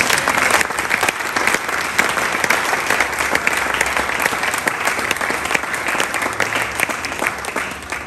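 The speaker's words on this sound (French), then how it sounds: "Est-ce qu'on peut acclamer Dieu là?" A church congregation in Kinshasa claps and cheers loudly in praise of God, a dense, sustained burst of applause that fills the space for several seconds with no speech over it.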